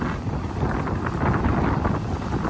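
Strong wind buffets a boat entering a fjord, a continuous loud rushing roar with gusty fluctuations close to the microphone.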